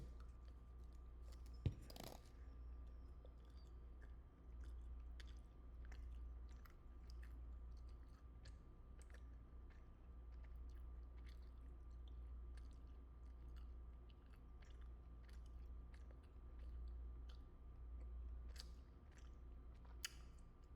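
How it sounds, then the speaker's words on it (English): Someone chews a piece of gum with a steady stream of soft, close, wet chewing sounds, repeated clicks and smacks running throughout against a low background hum, with no talking. "let me chew a piece of gum"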